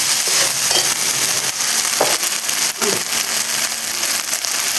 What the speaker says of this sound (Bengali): আমি গরম জল দিচ্ছি বাটিটা দিয়ে, যাতে মশলাটা লেগে না যায়।